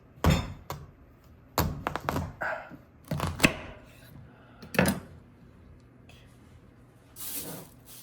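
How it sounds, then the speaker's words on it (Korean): A knife splits a hard kabocha squash in half on a kitchen board, giving several dull thunks and cracks spread out, close and fairly loud, with a short scraping hiss near the end. "일단 먼저 반 단호박을 반으로 잘라주세요"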